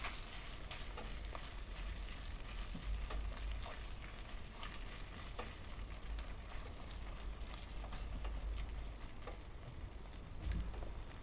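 Curry base with tomato puree sizzles and fries in a Ninja Woodfire, a steady close crackle running the whole time with occasional stirring clicks and no voices.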